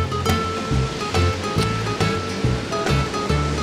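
Sea waves wash onto a beach on Jeju Island, a steady loud surf with repeated low surges breaking every half second or so, close by and with no voices.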